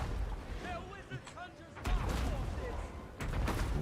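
Trebuchets hurl shots at Jade Warriors in a strategy game battle, with heavy thudding launches and impacts arriving in a couple of distinct booms under steady talk.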